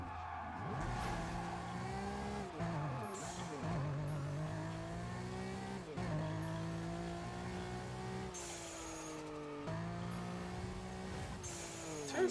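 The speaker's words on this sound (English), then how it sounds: "Oh, I love the turbo sound." Cars in the racing video game Burnout Paradise, engines revving and rising in pitch through repeated gear shifts, with turbo whine and tire squeal, loud and continuous with no talk.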